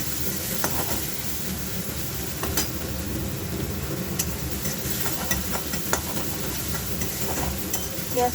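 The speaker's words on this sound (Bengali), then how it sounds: "দেখো তেলটা গরম হয়ে গেছে, মাছগুলো এখানে লাল লাল করে ভেজে তুলে রেখেছি। এবার দিয়ে দিচ্ছি পেঁয়াজ" Onions frying in hot oil in a pan where fish was just fried, giving a loud, dense, continuous sizzle and crackle close up, with occasional faint utensil clicks and no talking.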